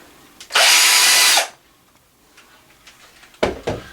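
Power tool unscrewing Corsair AF120 case fan screws from a Corsair 200R computer case: one loud, close whir of about a second, followed by quiet clicks and small clatters as parts come free.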